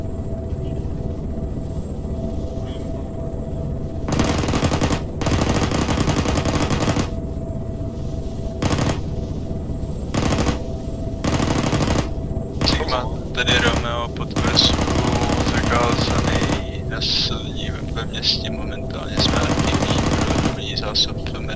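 Bursts of automatic gunfire pour into a town during an Arma 3 battle, loud sustained volleys repeating in clusters with short gaps, while players talk over the shooting.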